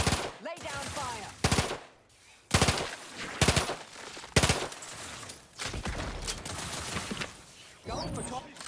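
Gunfire in the video game The Outer Worlds 2 comes as several loud bursts of rapid shots separated by short pauses, with voices talking between and under the volleys.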